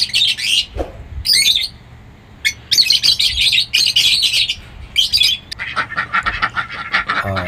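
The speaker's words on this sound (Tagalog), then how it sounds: "Yan po yung aming munting aviary." Busy chorus of small birds chirping and tweeting close by in a small farm aviary, bursts of calls overlapping with a few squawks, some brief pauses between flurries.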